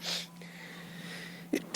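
A single sharp sneeze bursts out near the end, close and loud, after a short breathy intake against a quiet room hum.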